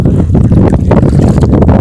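Strong wind roars and buffets the microphone throughout, a loud, steady rumble with gusty surges and no voices, at a dizzying height.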